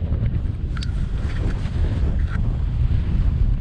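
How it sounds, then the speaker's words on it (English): Strong wind of around 40 to 50 mph on Helvellyn summit roars and buffets the microphone continuously, a loud low rumble with gusty surges throughout and no voices. "It's dead windy, it's probably like 40 mile an hour, 50 mile an hour wind."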